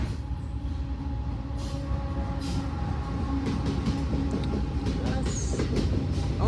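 A freight train rumbles past steadily with a continuous roar and faint clattering, and occasional higher metallic squeals ride over the noise.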